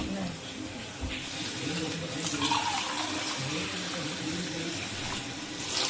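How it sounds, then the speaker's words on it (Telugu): Cups of water poured into a pot for cooking rice, a continuous splashing pour heard up close, with voices in the background. "మేము ఇప్పుడు 6 కప్స్ ఆఫ్ వాటర్ పోసుకుంటున్నాం."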